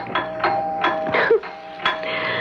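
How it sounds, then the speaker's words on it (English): A back doorbell rings out several times in quick succession in an old-time radio drama, its bright chiming tones repeating at a moderate distance. "Why does the back doorbell always ring when you're at the front?"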